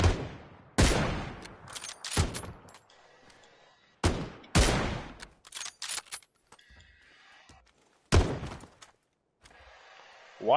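Gunfire in PUBG on the Karakin map: several sharp, loud shots in separated bursts, each cracking and trailing off, with quieter clatter and rustle between them.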